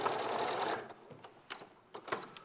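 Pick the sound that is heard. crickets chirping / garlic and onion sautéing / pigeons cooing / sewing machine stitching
sewing machine stitching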